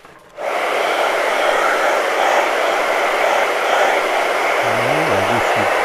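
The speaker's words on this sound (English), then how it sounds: "I'm going to just hit that with a blast of the hairdryer for just a second." A hairdryer blasts steadily at close range onto a fine-art acrylic snowman painting, starting abruptly and holding a loud, even whoosh throughout, with a brief low voice murmuring near the end.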